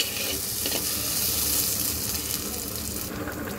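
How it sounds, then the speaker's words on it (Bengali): Onions frying in a pan for a fish curry with tomato and aubergine, giving a steady, close, continuous sizzle with no talking. "পেঁয়াজটা দেখো খুব সুন্দর মতন ভাজা হয়ে গেছে।"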